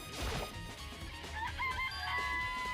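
Chickens cluck and a rooster crows in the Danganronpa video game, with the crowing call rising in the middle of the clip over a background of cackling hens.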